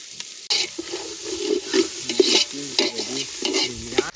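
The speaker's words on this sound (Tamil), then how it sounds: "போட்டு உப்பு போடுறோம் பார்த்து நல்லா தக்காளி வதங்கணும்" Tomatoes and salt stirred and sautéing in a pan for a village-style crab gravy, with a steady sizzle broken by repeated scraping strokes of a spoon, close and fairly loud.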